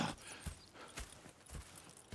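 Horses in the Red Dead Redemption 2 video game clip-clop in quiet, evenly spaced hoof beats, a few steps close together over a faint background.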